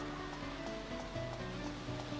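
A waterfall in the video game Dark Cloud 2 gives a continuous, even rushing wash of water with steady sustained tones underneath and no talk.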